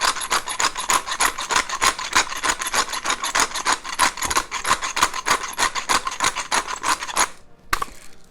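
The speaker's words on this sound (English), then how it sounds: "we'll take a few grinds from my trusty pepper mill" Rapid, steady rasping grinds from a pepper mill cracking peppercorns, a quick regular series of gritty crunches lasting several seconds close to the mic before stopping, with no talk over it.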